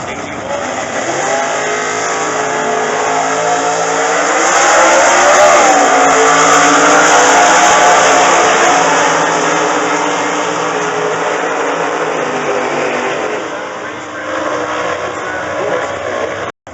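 A drag racing car's 350 cubic inch engine roars steadily at high revs during sportsman qualifying, swelling louder in the middle, with a crowd and announcer-like talk faintly underneath.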